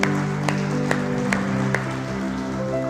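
A church congregation claps at the close of a Portuguese-language service, a few distinct claps over a sustained organ or keyboard chord, with light crowd murmur beneath.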